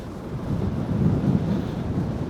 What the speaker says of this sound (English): I have over the top a third-party wind muff, and this is a breezy day